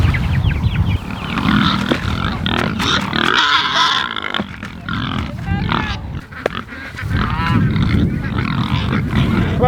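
Pigs grunting and squealing close up on a homestead, a busy chorus of snorts and oinks over a steady rustling background.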